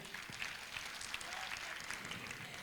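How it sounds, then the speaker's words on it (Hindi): A crowd at a talk on how to live life gives steady, continuous applause that sounds somewhat distant and soft. "जोरदार तालियां"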